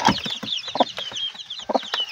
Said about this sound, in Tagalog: ito na yung manok natin na kakapisa pa lang